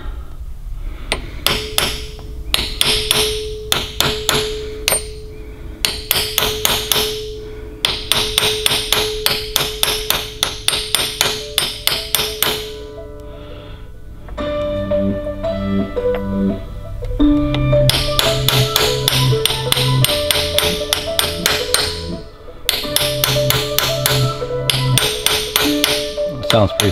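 Repeated hammer taps in quick bursts, fairly close, with sharp metallic pings between strikes and some background noise toward the end, tapping a part flush while fitting Wilwood brakes to a Datsun 280ZX.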